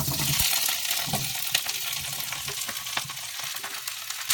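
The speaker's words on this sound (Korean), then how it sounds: "지금 썰어놓은 야채를 넣어서 볶겠습니다." Chopped Brussels sprouts and other vegetables stir-fry in hot oil with a dense, hissing sizzle close up. Scattered clicks and scrapes from the spatula come through, and nobody talks.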